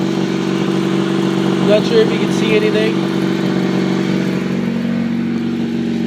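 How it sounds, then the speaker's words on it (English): A 1997 Honda Civic hatchback engine with an exhaust leak idles steadily nearby, a droning mid-pitched rumble with a slight uneven pulse, while a person talks briefly over it. "she might have an exhaust leak"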